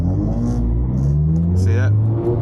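High-mileage Ferrari 458 pulling away from a light with a slipping clutch, engine revving loud and close, pitch climbing and dipping, while a person talks over it.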